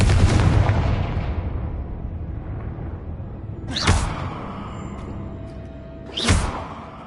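Confringo fire spell explosions in the Hogwarts Legacy video game: a rumbling blast fading away, then two sharp booming impacts a few seconds apart, loud and without talk.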